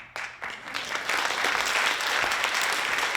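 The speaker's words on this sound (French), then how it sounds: "On doit applaudir." Theatre audience applause at a cabaret show, rising quickly from a few claps into full, sustained clapping that holds steady to the end.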